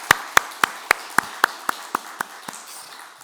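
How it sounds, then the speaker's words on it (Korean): Church congregation clapping in encouragement: about ten evenly spaced sharp claps, fairly close and distinct, slowly fading toward the end rather than a dense ovation. "우리가 큰 격려의 박수 한번"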